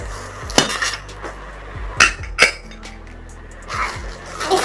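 Metal pots and a pressure cooker being handled and set down in a kitchen, with several sharp clanks and knocks spaced irregularly over a low steady hum.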